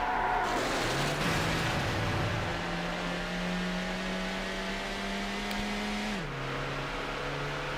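A Ford TS50 engine held in fifth gear in Need for Speed: Hot Pursuit 2 on PS2 hums in a long, steady high-speed drone, pitch creeping up slowly before a brief dip, loud and alone.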